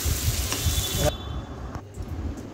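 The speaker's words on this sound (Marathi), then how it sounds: "चटणी परतून झालेली आहे। आता थोडं पाणी टाकू।" Fried peanut chutney sizzles loudly in hot oil, then the frying hiss drops off abruptly as water is poured in, leaving a quieter bubbling simmer.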